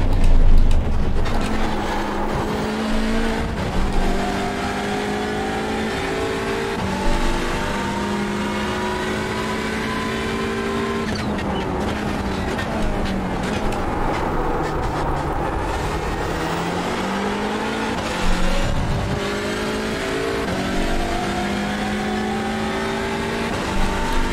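A Hyundai Elantra TCR race car in iRacing laps the Donington Grand Prix circuit, its engine droning loud and continuous, rising and falling through gear changes with brief tire noise, running alone without talk.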